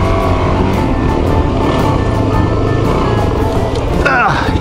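A dual sport motorcycle with a bald rear tire churns through deep desert sand in Anza Borrego's Coyote Canyon, its engine droning steadily and close throughout, with a brief louder swell near the end.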